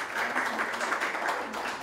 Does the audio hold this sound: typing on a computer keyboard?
no